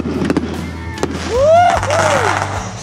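Fourth of July fireworks going off outdoors, with sharp pops and a rising whistling streak over a steady low rumble, distant bangs scattered through the few seconds.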